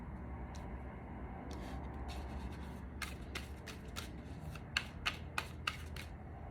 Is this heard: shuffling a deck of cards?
yes